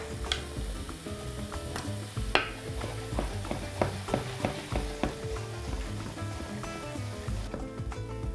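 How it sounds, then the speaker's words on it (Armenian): Eggplant pulp tipped onto onions frying in a pan gives a steady sizzle with repeated stirring and scraping clicks over low background music, close and moderately loud, with no talk. "Մշակում ենք նաև պտղամիսը սմբուկի, կտրատում և լցնում ենք տապակվող սոխի վրա"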